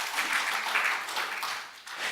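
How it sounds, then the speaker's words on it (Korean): A church congregation applauds for a short burst during a Palm Sunday sermon, a steady mid-level wash of many hands clapping that dips briefly near the end before swelling again. "박수로 하나님 앞에 영광 돌리십시다"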